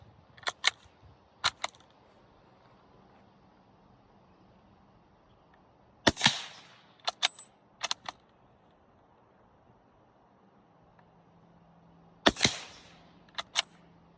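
Sharp suppressed .45 ACP gunshots from a De Lisle carbine with Blazer Brass ammunition crack in small clusters, a few quick shots then long pauses, each with a short metallic snap and faint trailing echo.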